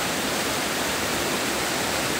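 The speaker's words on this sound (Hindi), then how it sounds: "ये जो है ये बहती हुई नदी है, मतलब बहती हुआ झरना है, ये झरने का पानी ओहो देखने लायक है" Gajpalla waterfall in Gariyaband, Chhattisgarh, pours in a dense, unbroken roar of rushing water, loud and steady throughout with no voices.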